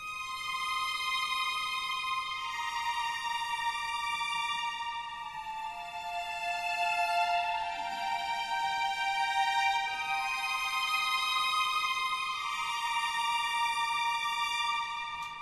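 Layered violin pad patches hold soft sustained chords that change slowly and overlap, with a steady, even level throughout and no voices.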